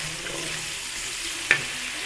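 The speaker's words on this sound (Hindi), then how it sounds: "तो प्याज मैंने इसमें शामिल कर दिया और प्याज को अच्छे से जो है वो गोल्डन ब्राउन कर लेंगे।" Onions frying in oil in a pan while a brinjal dish is cooked, giving a steady soft sizzle throughout with one brief sharp clink near the end.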